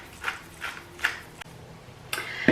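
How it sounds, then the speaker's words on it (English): A pepper mill grinding pepper over meatball sub ingredients gives a few close, rhythmic ratcheting crunches, with a louder twist near the end. "Pepper, again a good hefty grind, whatever your heart desires."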